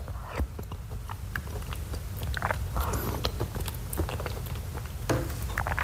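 Someone eats thick chicken and corn soup from a British Chinese takeaway, with close, wet chewing and slurping sounds that come in bursts with short pauses.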